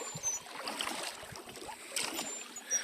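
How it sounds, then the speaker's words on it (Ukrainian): A wooden boat is rowed along the Ros river, with faint, soft splashes of oars and water lapping at the hull in a quiet outdoor setting. "Цей мужик вже гребе хвилин 20 точно."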